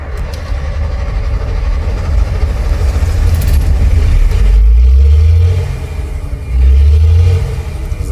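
Old museum bus engine starting and running, a heavy low rumble that swells into loud revving surges, close by, with no voices.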